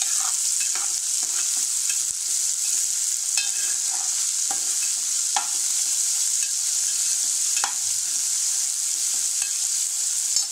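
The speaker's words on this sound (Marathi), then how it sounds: "कांदा छान आपण परतून घेऊया। कांदा थोडा रंग बदलेपर्यंत आपण त्याला परतायचं आहे।" Onion sautéing in a pan on medium heat, a continuous bright sizzle up close with scattered crackles and light stirring ticks throughout, no voices.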